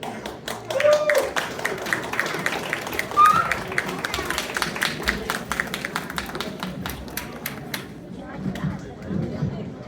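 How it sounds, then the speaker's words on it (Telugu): Audience clapping after a school skit about Mariyada Ramanna, with scattered sharp claps over background chatter and voices, fading toward the end. "చప్పట్లు కొట్టాలి అందరూ."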